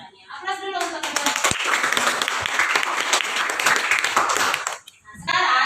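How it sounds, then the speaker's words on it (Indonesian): Students in a classroom break into a sustained burst of clapping for two classmates, loud and dense for several seconds before fading, with voices speaking before and after. "Aplaus dulu untuk kedua."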